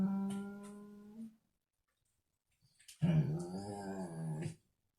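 A pet dog crying out in its sleep from a bad dream, a whining groan that fades, a pause of silence, then a louder, longer strained moaning cry, near and alone.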